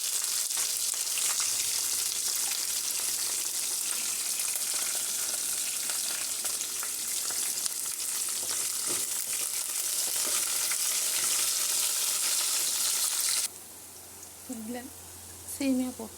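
Green chillies and onions fry in a pan for semiya upma, a loud steady sizzle lasting about thirteen seconds before cutting to a quieter stretch with faint clinks.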